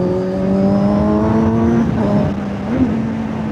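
A Kawasaki Z900 motorcycle cruising on a highway during a solo ride, its steady engine drone with a faint rising whine and wind rush, loud and continuous with no pauses.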